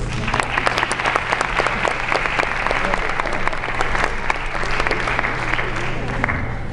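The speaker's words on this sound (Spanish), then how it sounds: "den un aplauso para ellos, por favor" Fans in Mexico applaud at a Robert Valley event, thick sustained clapping with a few sharper claps standing out, steady throughout and joined by a low hum and scattered voices.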